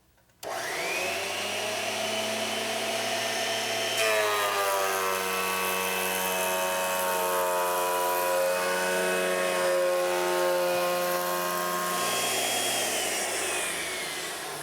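A woodworking machine spins up and mills wood blanks, taking thin passes off faces and edges for a Mission-style sofa, giving a loud, sustained whine and roar that rises in pitch partway through and holds steady, with no voices.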